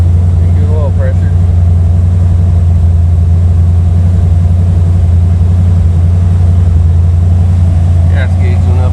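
A 1980 Chevrolet Malibu big block barn find runs after years of sitting, giving a loud, steady low engine rumble throughout. Voices come faintly now and then.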